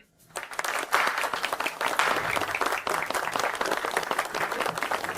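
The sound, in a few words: audience applause for founders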